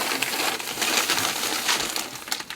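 Small plastic Tic Tac box being rummaged for and shaken inside a house: a loud, dense series of rapid rattles and clicks, close by, with no talk.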